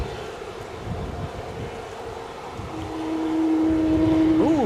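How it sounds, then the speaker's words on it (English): Strong wind gusts across the microphone outdoors at Edinburgh airport, a loud continuous buffeting roar that swells toward the end, with a steady engine-like tone joining in the final seconds. "Boy, is that wind whipping."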